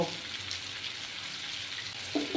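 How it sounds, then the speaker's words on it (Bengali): Spices and tangra fish sauté in a pan with a soft, even sizzle and a couple of stirring knocks near the end, fairly quiet and without talk. "একটু ভালোভাবে কষিয়ে নেব এটাকে।"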